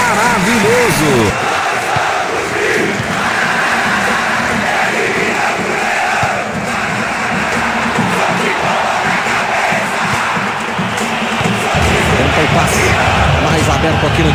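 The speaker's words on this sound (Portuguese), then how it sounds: "A torcida vai à loucura." Stadium crowd in the Winning Eleven 10 football game roars loudly and continuously, a dense cheering wash with shouts, and a commentator talks over it.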